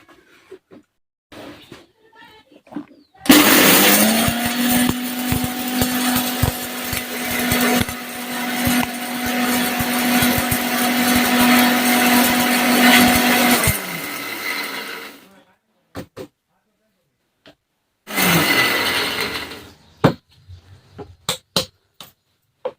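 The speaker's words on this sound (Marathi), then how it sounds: "तर आता मिक्सरमध्ये फिरवून घेऊ आपण" A mixer grinder grinding green chilies roars loudly for about ten seconds with a steady motor whine, then stops; a second short burst follows after a pause, with clicks around it.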